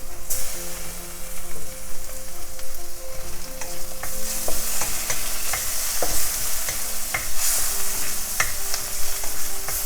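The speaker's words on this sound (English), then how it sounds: "So now I'm going to add the tomatoes." Tomatoes tipped into onions already frying in a pan for spicy spinach fried rice, setting off a steady, loud sizzle with stirring scrapes and small knocks throughout, no voice.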